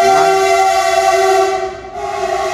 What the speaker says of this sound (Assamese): ট্ৰেইন এখন পাৰ হৈ গৈছে